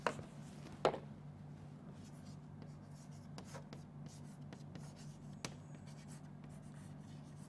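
Chalk or marker scrapes across a board during an engineering lecture, with soft continuous scratching, a few sharper taps and a steady low room hum beneath.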